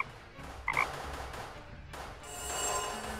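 Frog croaking in the video game Deponia, a few short croaks near the start over quiet game ambience, followed by a brighter hiss and a low hum.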